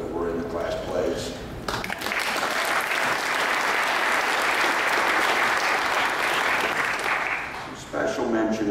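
Sustained applause from an audience honoring class play participants, swelling in after a brief spoken lead-in, filling the room steadily for several seconds, then cut off as talk resumes at the end.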